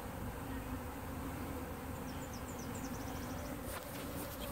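Honeybees from a new beekeeper's hive buzz in a steady, dense drone that stays close and fairly loud throughout, with a few brief higher whines of individual bees passing near the end.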